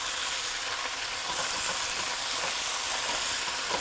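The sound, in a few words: garlic and bok choy frying in oil in a pan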